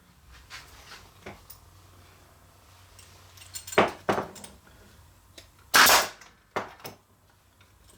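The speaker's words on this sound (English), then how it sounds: "we're going to shoot a few brad nails into it" A brad nailer fires brad nails into a wooden floating shelf, giving several sharp, close snapping shots spaced irregularly over a few seconds, with quieter handling taps between them.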